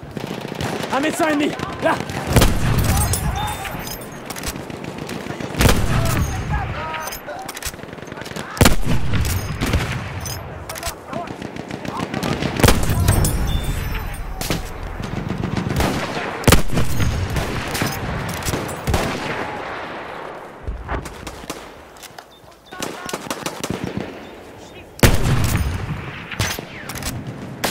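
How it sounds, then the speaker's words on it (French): Enemy machine gun fire in the video game Battlefield 1: dense, rapid bursts of loud gunshots with scattered booming explosions run through the whole stretch, close and heavy, while a voice calls out over the battle noise. "Mitrailleuse ennemie, par là!"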